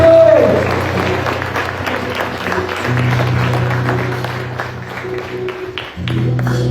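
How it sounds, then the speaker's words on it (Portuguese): A congregation applauds during a Portuguese-language church service, producing a steady wash of clapping that fills the whole clip, with a sustained low hum beneath it. "Dê um aplauso a Jesus."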